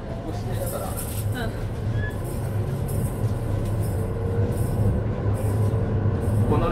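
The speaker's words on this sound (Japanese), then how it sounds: "この列車は特急若潮14東京行きです。" Interior rumble of a JR East E257 series limited express Wakashio train running toward Tokyo, a steady low drone of wheels and motors that carries through the whole stretch, with faint higher clatter on top and nobody speaking.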